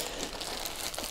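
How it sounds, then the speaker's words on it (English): Thin plastic wrapping is peeled off a White Dwarf magazine, giving a steady close crinkling and crackling rustle that runs without a break for about a second. "let's unbox, unwrap this magazine and let's see what it's all about"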